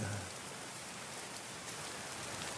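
Steady rain falls in the medieval colony-building video game Going Medieval, a dense, even hiss of drops pattering on surfaces that holds throughout without any voices.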